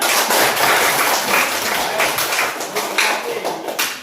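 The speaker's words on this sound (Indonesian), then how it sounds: "Baik, tepuk tangan." A classroom of students claps together in a dense, steady burst of applause that carries on for about four seconds before thinning slightly toward the end.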